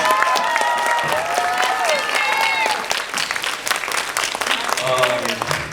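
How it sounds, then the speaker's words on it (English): Audience applause and cheering at a pageant, a dense sustained clatter of hands with whoops and voices rising over it, loud and close throughout, tapering slightly toward the end. "Can we get a round of applause for them, please?"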